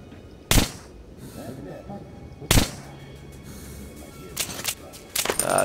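Pistol shots in Metro 2033 Redux, four sharp broadband cracks spaced over a few seconds against a low ambient game background, with a louder burst near the end.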